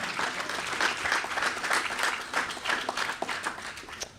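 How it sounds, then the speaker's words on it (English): Audience applause after a vocational scholarship announcement for graduating high school seniors on Nantucket, a dense, steady wash of many hands clapping at moderate distance for about four seconds with no speech over it. "So how about a round of applause for that?"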